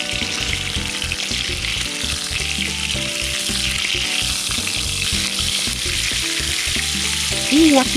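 Meat sizzling and spitting steadily on a grill over a campfire outdoors, a dense, close crackle that runs continuously with small pops throughout and no talking.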